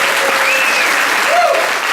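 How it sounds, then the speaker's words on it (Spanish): Congregation at a Sunday church service in a Spanish-speaking evangelical setting applauds loudly and steadily, a dense continuous wash of clapping with faint cheering tones rising above it throughout. "Si es para Cristo, dele bien fuerte ese aplauso"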